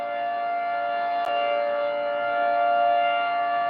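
A town's civil defense siren sounds its 6 o'clock whistle, a loud, unbroken harmonic wail that holds steady throughout with no voices.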